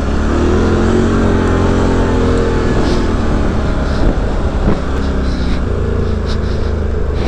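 A 2019 Polaris Sportsman 1000 XP quad rides on dusty ground, its engine a loud, steady drone held near and continuous from start to finish, with no speech over it.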